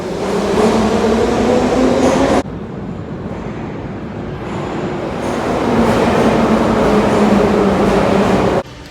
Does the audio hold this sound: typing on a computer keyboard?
no